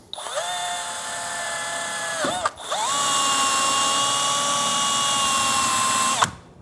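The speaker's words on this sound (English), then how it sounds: "Using a wire wheel, we're going to clean up inside of the channels on both sides." A drill-driven wire wheel scrubs the caliper bracket channels during rear brake work on a 2003-2007 Infiniti G35, a loud steady whine that dips briefly as it slows, then spins back up and runs evenly before stopping.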